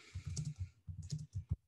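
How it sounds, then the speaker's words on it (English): Someone types on a computer keyboard while entering code in the R console, quick bursts of soft, close key clicks with a short pause midway and a firmer final keystroke, no talking. "Now, let's say I'm typing this."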